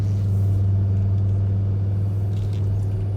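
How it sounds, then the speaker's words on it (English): A 2006 Volvo XC90's 2.5-litre five-cylinder turbo engine running, a loud, steady low rumble with a strong droning hum, heard close with no one talking. "this 5-cylinder turbo"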